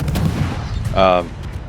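Naval gun salvo from a destroyer in World of Warships, heard as a single loud, ringing burst about a second long over a low rumbling game soundscape.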